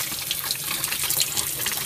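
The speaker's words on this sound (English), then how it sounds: "The tank gets filled from the top" Water gushing into a cold water tank in an attic through a ball valve at the top, a steady close hissing rush of running water with no pause.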